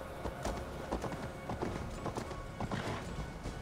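Horse hooves clip-clopping in the video game Assassin's Creed Valhalla, a rhythmic galloping beat at moderate distance with faint background game ambience and a brief voice.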